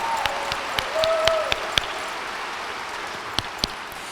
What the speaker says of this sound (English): President Clinton, yes, we'll all give him a round of applause.